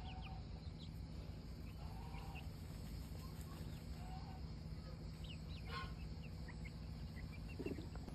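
Chickens in a sunny farmyard cluck and call in short, scattered bursts over a quiet background, fairly near and soft.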